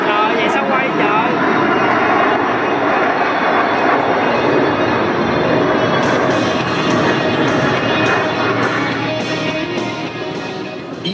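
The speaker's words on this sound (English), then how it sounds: "Each pilot, having accelerated his aircraft to 500 miles per hour, will perform a reversal turn back to the show line" Blue Angels jets roar overhead during an air show maneuver at a Seafair show, a loud sustained engine rumble that slowly fades, with an announcer and crowd voices talking over it.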